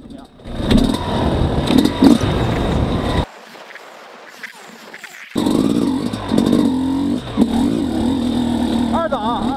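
An XTNG GEN3+ 38 motorcycle engine pulls in second gear during a riding test, a loud, close droning hum that cuts out for about two seconds midway, then resumes at a steady pitch.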